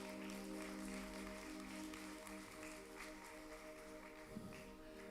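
Congregation clapping during a church service in Curaçao, faint and continuous, under a sustained keyboard chord that hums beneath it throughout.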